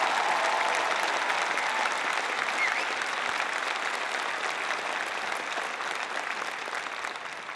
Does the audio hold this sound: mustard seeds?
no